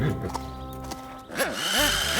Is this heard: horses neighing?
yes